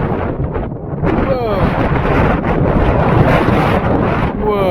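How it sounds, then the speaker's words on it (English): Wind gusts roar over a lake around a kayak in early spring, rushing loud and buffeting close in, with low rumbling swells and brief speech mixed in. "here comes the wind"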